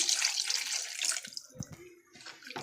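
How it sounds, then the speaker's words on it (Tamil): Water pouring into a pan of duck gravy with sautéed tomato, onion and meat, a close splashing pour that fills the first half, then drips and a few small knocks, with no talking. "தண்ணி கொஞ்சம் ஆட் பண்ணிக்கலாம்."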